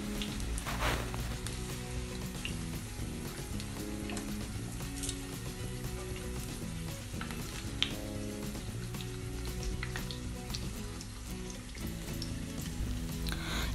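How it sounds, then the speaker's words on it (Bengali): Potatoes fry in hot oil with no salt or chili, giving a steady, dense sizzle with a rain-like crackle that holds evenly throughout, close and unbroken by speech. "আলুটাকে আমি লবণ ছাড়া ভাজবো, লবণ মরিচ কিছু দেব না, জাস্ট ক্লিন করে একটু ভেজে নিচ্ছি"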